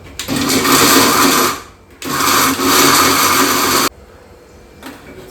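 A mixer grinder grinding coconut runs in two loud, steady whirring bursts, each about two seconds long, with a short pause between them, then drops to quiet.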